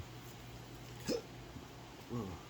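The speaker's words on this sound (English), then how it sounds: "And also have the hiccups now." Two short, sharp hiccups from a person, about a second apart, fairly close and clear over a quiet room with a faint steady hum.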